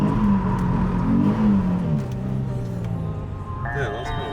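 A Nissan 350Z, bought totaled from auction and cheaply repaired, revs its engine on its first drive, a brief rising whir under a person talking over it.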